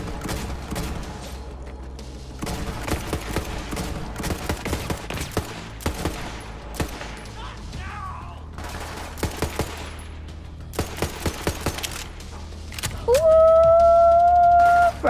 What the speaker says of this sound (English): All right, I hear more gunshots.